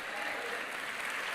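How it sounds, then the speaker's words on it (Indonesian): A church congregation breaks into steady, dense applause, a continuous wash of clapping heard at a moderate distance with faint voices mixed in. "Yang percaya sudah menerima, tepuk tangannya yang paling meriah"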